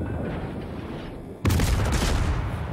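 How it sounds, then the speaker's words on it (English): Naval guns on ships in World of Warships, a destroyer battle at tier 9: a low rumbling backdrop, then a sudden loud boom of a salvo followed by a sustained roar of heavy gunfire. "Now I'm close enough now to throw some shots at the Iowa again"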